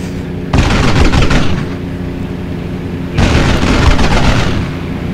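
Aircraft machine guns fire in the Aces High 3 flight game, a P-51 in combat: two loud, rattling bursts about a second long each, separated by steady engine drone.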